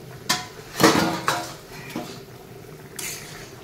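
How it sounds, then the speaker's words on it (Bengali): A metal lid lifted off a cooking pot of Bengali fish curry made with cauliflower, giving a few sharp clanks and rattles, one loud knock and a fainter clink afterward, close by with no talking. "ঢাকনাটা দিয়ে দিই, ঢাকনাটা খুলবো"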